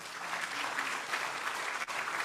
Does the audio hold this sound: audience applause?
yes